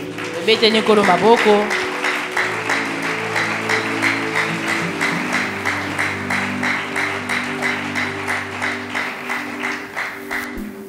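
A church congregation claps together in a steady rhythmic beat, a dense and fairly loud sustained applause. Organ or keyboard chords and a few voices sound underneath, with a brief vocal outburst at the start.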